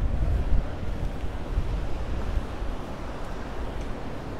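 Rough sea waves at Ciudad Jardín, Palma de Mallorca: a constant low roaring wash of surf, heavy wind buffeting the microphone, with a stronger surge near the start and no voices.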